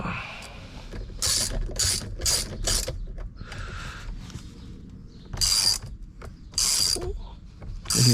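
A screw is driven with a hand tool while fitting a Hansshaw heated yoke steering wheel to a Tesla Model 3/Y, giving close, repeated ratchet clicks in short bursts with pauses between.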